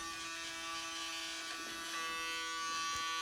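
A rising swamp hag animatronic's mouth motor buzzes loudly and continuously with a harsh electric hum, close to the microphone, with faint small clicks.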